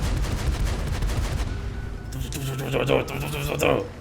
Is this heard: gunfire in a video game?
yes